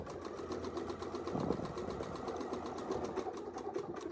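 A sewing machine runs free-motion quilting with a ruler, its needle pulsing in a quick, steady rhythm with a low motor hum beneath, close and continuous throughout.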